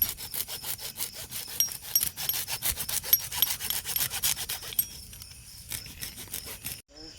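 A tight rope knot is cut through with a blade in steady, rapid back-and-forth sawing strokes, close and fairly loud, continuing for several seconds before stopping abruptly; no voices.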